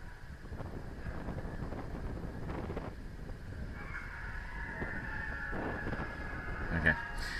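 Wind buffets a microphone outdoors while a sport kite is flown, with a steady rushing roar and low rumble throughout and a faint whistling tone in the second half.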